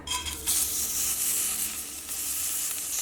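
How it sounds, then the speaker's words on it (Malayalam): Washed rice roasting in a pan, a continuous close sizzle with a dry scraping rustle of stirring throughout, steady and fairly loud, with no talk. "അപ്പോൾ നമുക്ക് ഫസ്റ്റ് അരി വറുത്തിട്ട് എടുക്കുക."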